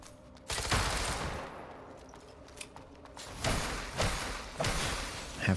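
Bursts of gunfire from the AI Limit video game, several volleys in quick succession with thumping impacts, fairly loud over a steady game background, no talk.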